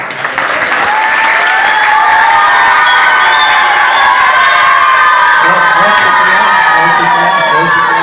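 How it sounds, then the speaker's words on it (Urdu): An audience at a gathering breaks into loud, sustained applause mixed with cheering and scattered shouts, a dense wash of clapping that holds steady for the whole stretch with no speech over it. "ان کی خوشی کے لیے بھی تھوڑی تالیاں بجائیں"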